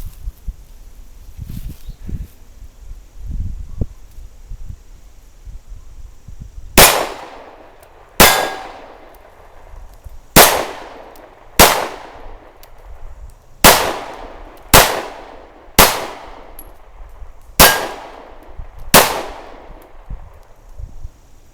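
Glock 19 Gen 4 pistol firing Tula brass ammunition, about ten loud sharp shots at an irregular pace, each with a ringing outdoor echo, after some quiet handling noise.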